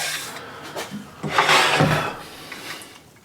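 A hand scraper drawn across a chestnut wood surface gives a few short rasping strokes, the middle pass the loudest and longest, close by with no talk.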